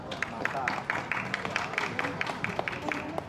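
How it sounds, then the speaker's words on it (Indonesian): Audience at an Indonesian art performance event applauds, a brief scattered round of clapping with crowd murmur beneath, moderately loud and steady across a few seconds. "tepuk tangan untuk Hamzrud S."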